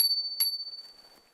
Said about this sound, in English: all bicycles must come fitted with a bell